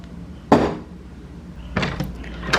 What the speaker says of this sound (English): Someone is trying to get in the door.